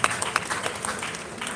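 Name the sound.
audience applause for Keystone Bank representative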